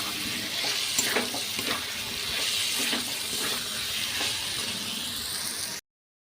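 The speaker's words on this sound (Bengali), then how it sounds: "পটল আলু ভাজাটা দিয়েও আমি একটুখানি ভালো করে কষিয়ে নেব" Fried pointed gourd and potato being sautéed in a pan for potol chingri, a steady close sizzle with scraping stirring strokes throughout before it cuts off abruptly.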